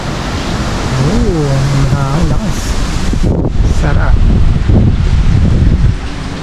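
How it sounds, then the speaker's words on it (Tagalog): Strong wind gusting at a beach in Zambales, a steady broadband roar with possible surf beneath, continuous and close to the microphone while people talk over it. "Malakas yung hangin."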